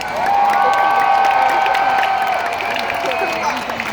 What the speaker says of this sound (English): can we have a round of applause for our fearless Red Lions?